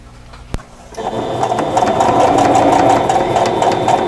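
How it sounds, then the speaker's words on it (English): A sewing machine stitching quilt block sections together, starting after a single click and then running in a steady, close mechanical whir with rapid rhythmic needle ticks. "And I'm going to take this to the machine and sew that."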